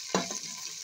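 Beans hit a hot pan for Filipino pansit, a sudden loud sizzle that settles into a steady close frying hiss.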